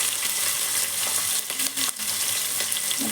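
Green chillies sizzling steadily in a pan of hot oil with fennel seeds for a chicken gravy, a continuous close frying hiss with a few brief clinks and stirring knocks, no voices.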